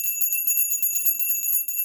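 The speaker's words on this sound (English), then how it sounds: "Let's ring our bell" A small bell rung a few times at the start of a tarot reading, clear bright ringing tones with a rapid repeated shimmer, fairly close and alone without talk.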